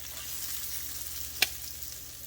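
Crab cakes fry in a pan with a soft, steady sizzle, faint and close, broken once by a brief sharp tick of a utensil.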